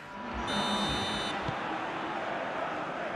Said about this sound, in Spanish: Suena el pitido que marca el inicio del segundo tiempo.